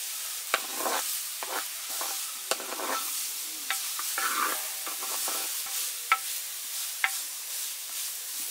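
Rice fries and is stirred in ghee, a steady close sizzle broken by repeated scraping strokes and a few sharp clicks of the spoon against the pan.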